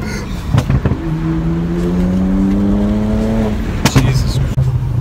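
A custom-tuned BMW 335i pulls hard on back roads. The engine note climbs steadily through a long rising rev, then shifts and surges again, loud and close from inside the car.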